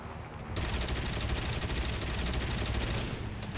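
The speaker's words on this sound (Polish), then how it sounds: "to bombowiec, aż strzela, do mnie z zapleców swoich" Rear guns of a bomber aircraft in the video game War Thunder fire a continuous rapid burst over the loud drone of aircraft engines, close and steady for about two and a half seconds.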